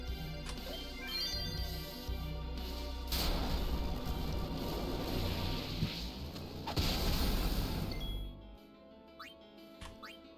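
Battle effects from Final Fantasy X overdrive attacks, a dense, loud wash of booming impacts, crashes and metallic clinks lasting several seconds before cutting to a few sparkling chimes at the end, with no speech.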